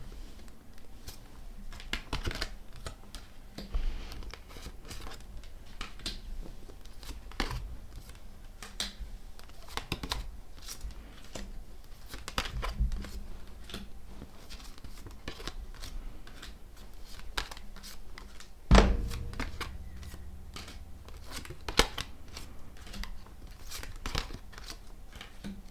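Soft papery flicks and light taps of tarot cards being flipped through, continuing irregularly for a long stretch, quiet and close, with one louder bump midway.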